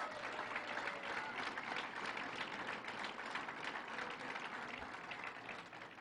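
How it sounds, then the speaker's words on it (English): A crowd at the New York State Fair applauds a record-breaking family, with steady, fairly distant clapping that holds evenly before easing at the end. "Let's give them a round of applause."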